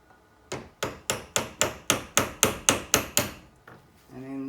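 About a dozen steady, evenly spaced hammer taps seat a gullwing window part into a Suzuki, each a sharp, close knock, followed by a brief rattle at the end.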